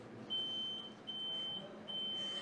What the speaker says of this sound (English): all you have to do is press the buzzer